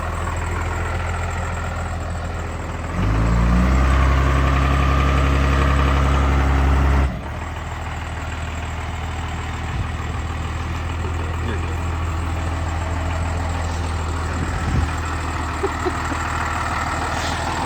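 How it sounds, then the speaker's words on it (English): A Cummins diesel-swapped Land Cruiser doing a reverse burnout: a loud, rising diesel roar that holds for about four seconds, then drops back to a rough idle with voices talking over it. "Reverse burnout, pretty sick."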